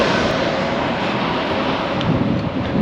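Aircraft engine roar near LAX airport, a steady loud broadband rumble holding level throughout, heard close with no talk.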